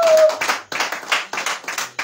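Congregation in a church in Ebolowa, Cameroon clapping hands together in a lively burst of rhythmic applause, several quick bursts of claps filling the room with no talking.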